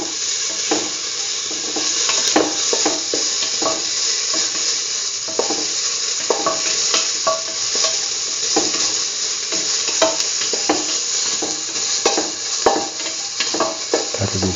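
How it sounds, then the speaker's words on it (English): Salted onion pieces sauté in a pan, giving a continuous bright sizzle and frequent scraping, clicking spatula strokes that repeat irregularly throughout, close and fairly loud with no speech. "Keep on sauteing."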